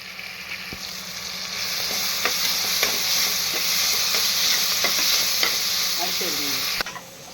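Onions and green chillies fry until crisp in a pan, a loud, dense sizzle running steadily throughout while a spatula scrapes and stirs in repeated strokes, the sound dropping off sharply just before the end.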